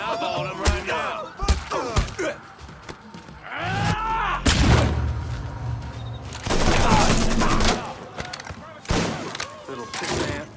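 Gunfire in the video game Mafia 3, bursts of shots and heavy thumps mixed with loud in-game effects and dialogue, close and dense across the clip, with stretches of rumbling explosions and voices talking.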